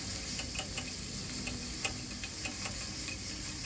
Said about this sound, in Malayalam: കുറച്ചൊന്ന് സോട്ട് ചെയ്തെടുക്കുക.